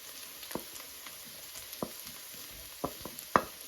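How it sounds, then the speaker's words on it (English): Garlic and shallots stir-frying in a pan, a faint steady sizzle broken by several sharp spatula scrapes and stirring knocks spaced irregularly. "So just throw in the garlic."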